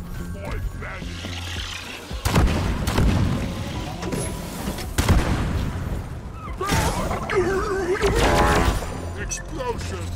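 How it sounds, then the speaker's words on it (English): Explosions and mechanical clatter in Deep Rock Galactic during a solo Driller Elite Deep Dive, several loud booming bursts over grinding, ratcheting machinery with voices talking throughout. "Explosions, fire!"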